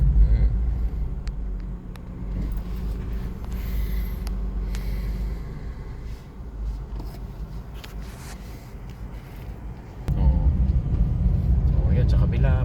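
Trucks drive past on a road in Saskatchewan, a steady low rumble of traffic that swells louder near the end, with a voice talking over it.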